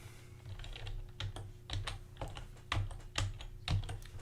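Typing on a computer keyboard while coding a tile-swapping puzzle game, a steady run of close, crisp key clicks with a few heavier strikes, over a low constant electrical hum.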